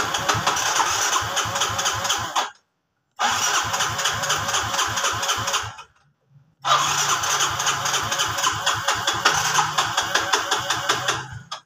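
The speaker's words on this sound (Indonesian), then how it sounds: "lalu di starter tidak mau hidup atau tidak mau digas" Fuel-injected Honda Soul GT motorcycle with its electric starter cranking in three long, loud bursts separated by short silences, the engine churning rhythmically but never catching.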